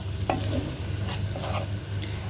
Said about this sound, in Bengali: এগুলো সব দিয়ে ভালো করে নেড়ে চেড়ে মশলাগুলোকে কষিয়ে নেব